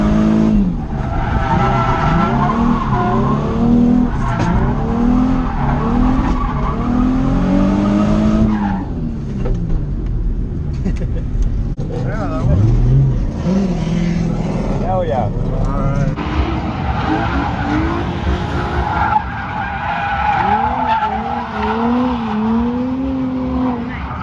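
A drift car skids around Irwindale Speedway, its engine roaring steadily with rising and falling revs and tire squeal, loud and continuous, under a narrator's voice throughout.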